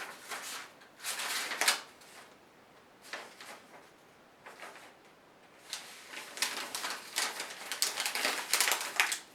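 Paper rustles and crinkles in bursts near a dog, soft crisp scrunching that comes and goes over several seconds, fairly faint and close, with no talking.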